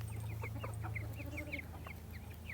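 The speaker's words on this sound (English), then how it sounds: "all of these little young chickens running around here" Young bantam chickens about six weeks old cluck and cheep repeatedly in a coop yard, a busy run of short chirping calls close by over a low steady hum.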